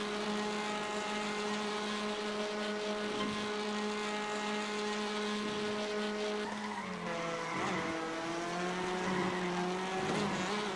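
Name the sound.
race car engine with boost in iRacing video game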